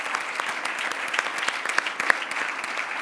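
Conference audience gives a round of applause at the close of a morning session, a steady patter of many hands clapping with a few sharper individual claps popping out near the front.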